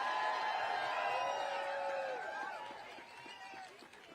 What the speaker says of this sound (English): Another round of applause for Evan,